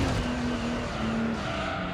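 Tires squeal and skid over a revving car engine in Gran Turismo 3: A-Spec, a sustained screech lasting the whole moment.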